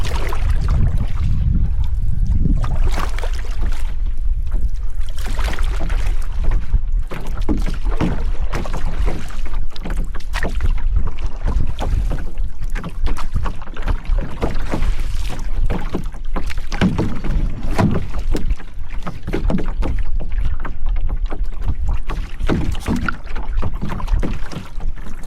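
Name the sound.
wind on a lake while canoeing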